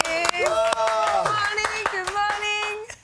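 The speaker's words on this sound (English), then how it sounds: "Round of applause." Studio audience clapping as a guest arrives, sharp individual claps spaced through the moment while voices talk and exclaim over them in the foreground.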